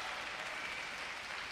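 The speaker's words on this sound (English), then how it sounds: "And the Chinese coach claps in approval of a great shot" A coach claps in approval at a women's table tennis gold medal match between France and China, the applause a steady dense patter blended into constant arena noise.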